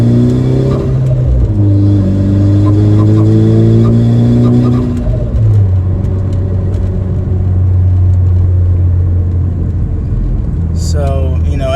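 Ford Focus ST fitted with an Invidia Q300 exhaust accelerating hard, a deep, mellow engine note rising in pitch through the gears with intake whir, loud and close, with a person speaking over it.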